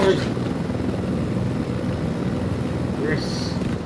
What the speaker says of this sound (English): I have a chopper.